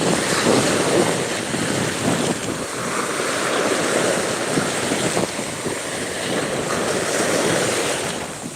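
Ocean surf rolling onto a beach, a continuous broad roar of breaking waves with wind buffeting the microphone, steady and fairly loud throughout with no voices.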